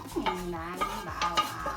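A utensil scrapes and stirs garlic with pork in a pan in a few quick, close strokes, with faint sizzling beneath.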